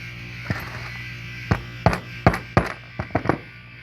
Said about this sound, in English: I take my hammer and I just